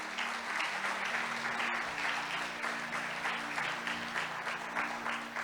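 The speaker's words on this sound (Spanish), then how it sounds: "Desen un aplauso a ver si despiertan." A church congregation breaks into steady applause during a sermon, a continuous even wash of clapping heard at moderate distance with a faint constant hum beneath it.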